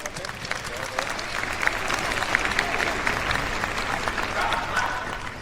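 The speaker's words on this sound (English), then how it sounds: "please do give a big round of applause for Jackie Gardner." An audience at the Crufts agility ring applauds a judge, with steady, dense clapping from a large indoor crowd sustained throughout.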